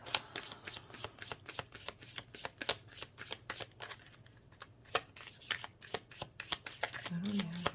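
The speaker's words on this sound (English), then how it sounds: "The way that I keep continuously shuffling" Tarot cards are shuffled continuously by hand, a rapid run of crisp riffling clicks and slaps that varies in intensity, close and clear with no talk over it.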